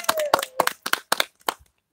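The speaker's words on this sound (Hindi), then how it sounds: "जोरदार ताली।" Audience applause at a live Chhattisgarhi music stage show, heard as a few loud, uneven bursts of clapping close by that thin out toward the end, with a voice briefly audible among them.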